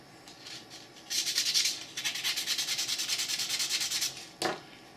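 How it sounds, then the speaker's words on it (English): Small 1911 pistol parts rubbed by hand with very fine sandpaper, heard as a close, fast series of short rhythmic scratching strokes, then a pause and one final sharp scrape. "I keep some really fine sandpaper, something like this, and then I just hit it with that"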